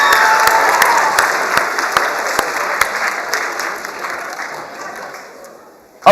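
An audience claps steadily for the scoreboard crew at a game event, dense sustained applause that tapers off gradually before a sharp sound at the very end.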